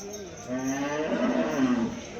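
A buffalo at the Rampura Phul livestock market gives one drawn-out, rising and falling moo at moderate distance, with faint market background behind it.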